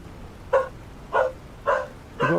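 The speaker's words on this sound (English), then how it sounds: "My dogs are going mental." Several dogs bark indoors in four distinct, evenly spaced barks, close and fairly loud, with quiet room tone between them.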